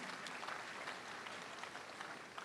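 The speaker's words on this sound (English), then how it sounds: "Let's clap for Jesus Christ." Faint, steady applause from a church congregation, a continuous wash of distant clapping at low level with no distinct individual claps.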